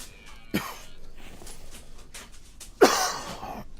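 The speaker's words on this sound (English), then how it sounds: "And of course, still got a cough." A person coughs twice, a short cough first and then a louder, harsher one a couple of seconds later, close up against a quiet background.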